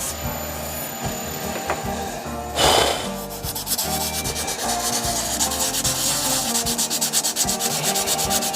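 Sanding a wood and resin hybrid turning on the lathe at the first grit: a steady, loud abrasive rubbing hiss with a rhythmic pulsing scrape, briefly interrupted by a heavier burst near the start, continuing throughout without talk.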